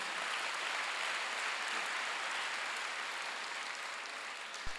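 Sustained applause from a large church congregation during a Sunday service, a dense even wash of clapping that holds steady throughout and ends with a single sharp knock.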